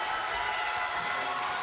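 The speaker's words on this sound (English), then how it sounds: "That brings the crowd to its feet. It's a very pro-Hurd crowd." A boxing arena crowd at a Lara vs Hurd super welterweight title bout rises to its feet, a dense, continuous roar of cheering that fills the space without a break.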